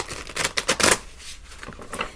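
Tarot cards being shuffled by hand give a quick run of crisp riffling flutters and slaps, close and fairly loud, then fade to a quieter patter.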